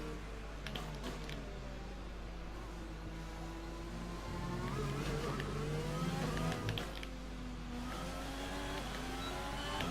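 An F1 car engine in F1 2020 on an outlap at the Vietnam circuit, a continuous high whine rising and falling through gear changes, steady and fairly close, with no talk over it.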